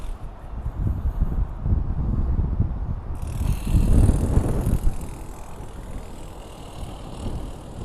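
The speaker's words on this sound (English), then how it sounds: "That wind's a bit powerful, isn't it?" Strong gusts buffet the microphone beside an HGV, a low rumbling roar that swells and surges, loudest midway, with a fainter hiss after, no speech.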